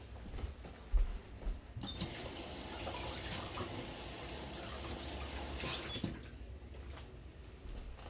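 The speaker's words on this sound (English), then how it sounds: "Let me rinse this off." A jar is rinsed under running tap water while pressure canning, a steady broadband rush of water splashing in a sink that starts after a brief knock and cuts off near the end, with no talking.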